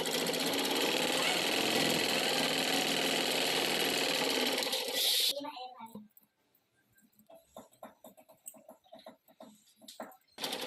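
A sewing machine stitching a blouse runs in a loud continuous whir for about five seconds, then stops, followed by quieter handling sounds and someone talking.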